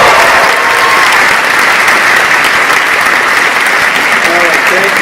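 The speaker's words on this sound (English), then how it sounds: "Can we please give her a big round of applause?" A big, dense round of audience applause fills the hall at a Star Wars special event panel at SVCC 2018, loud and sustained throughout with no pauses.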